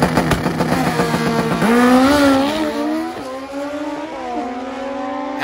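An old-school Kawasaki KZ and a Honda CB drag race at a motorcycle event, their engines screaming loud and close, pitch climbing through rapid gear changes before easing off.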